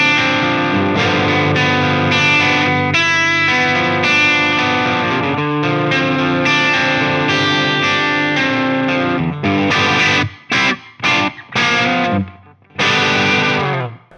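An electric guitar runs through a cranked DrZ Maz MKII amp, strumming riffing chords with gritty overdrive, loud and steady, then breaking into short choppy stabs near the end.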